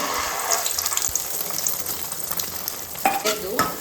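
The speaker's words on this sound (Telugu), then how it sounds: "ఇప్పుడు ఈ ఆయిల్లో ఎగ్గేసుకుందాం." Eggs go into hot oil in a pan at a street-style noodle stall, producing a constant crackling sizzle with a few sharp clinks and splashes near the end.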